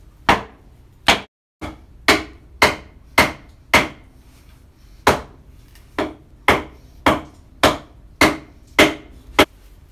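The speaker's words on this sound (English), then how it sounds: "I drive down the hatchet into a line just to break the wood fibers" A hatchet chops into a rough hewn timber, a steady series of about fifteen sharp, close thwacks spaced under a second apart, with no talking.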